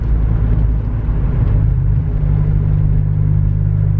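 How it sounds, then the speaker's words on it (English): A loud BMW E36 car engine rumbles close by, a heavy, steady low-pitched drone that continues without a break. "Show up in my stupid loud car"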